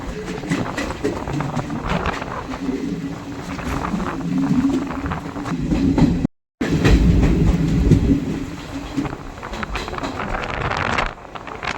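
A moving train between Silchar and New Haflong, near Badarpur Junction, rumbles and clatters steadily close by, with people talking over it and a brief cut to silence midway.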